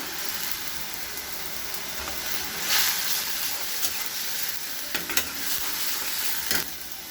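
Masala for an egg curry stir-fried in a pan, a continuous close sizzle with scraping stirs and a few sharper spatula clicks, no voices over it.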